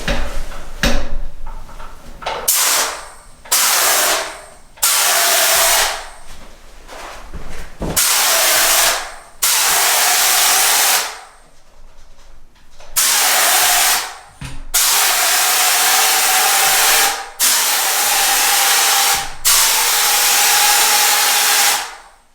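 A texture spray gun sprays wall texture in loud, hissing bursts of a second or two, repeated about a dozen times with short pauses between.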